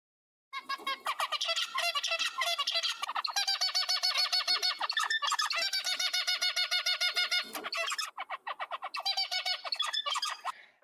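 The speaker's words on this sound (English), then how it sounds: "now take the sound of this zebrafinch" Rapid, buzzy bird song with repeated harsh, nasal notes in quick bursts, loud and close, continuing for about ten seconds without pause.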